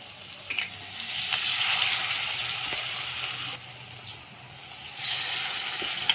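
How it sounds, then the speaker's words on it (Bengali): Malabar spinach (pui) leaves dipped in gram flour batter frying in hot oil, a steady close hiss and crackle with brief louder bursts as pieces go into the pan, no voices. "এই যে আমি এখন একটা একটা করে বেসনের মধ্যে চুবিয়ে তেলে দিয়ে দিচ্ছি।"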